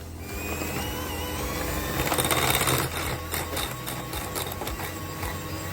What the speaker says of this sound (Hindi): थोड़ा सा हाई स्पीड पे इसे चर्न करेंगे ताकि ये मिक्सचर इवनली स्मूथ हो जाए।